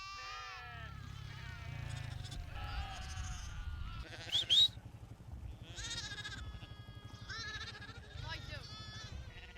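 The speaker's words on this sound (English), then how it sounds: "If one of you wants to stop the sheep going into the narrow point" Shetland sheep bleat repeatedly as they are herded down a hill, with a few louder calls mid-way, under a low steady background hum and a person speaking.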